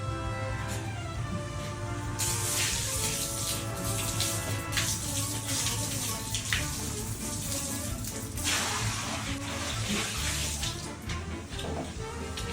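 Water poured from a bucket onto a floor, a continuous splashing gush close by with clattering accents, loud and unbroken throughout, with no speech.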